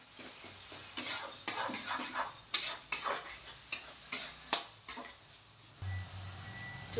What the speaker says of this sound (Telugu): కలుపుతూనే ఉండాలి.